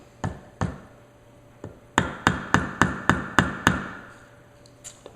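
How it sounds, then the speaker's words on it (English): A hammer and punch strike a pin during reassembly of an MPA 930 Mini 9 pistol, giving a few separate taps and then a quick run of about seven sharp, ringing metallic blows, close and loud, with no talking. "Not a good hammer to use."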